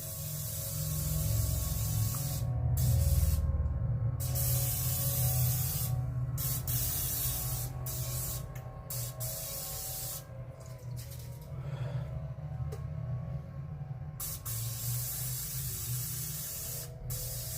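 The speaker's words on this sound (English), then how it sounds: "So now I'm spraying this Pam, that way it'll get no sticky." A continuous hiss of Pam cooking oil spray, steady and close, running for several seconds with a few brief pauses and low background hum underneath.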